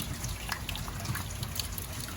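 Water overflowing from gutters after heavy rain during a tropical storm, a steady close splashing and trickling with scattered drips, continuous throughout.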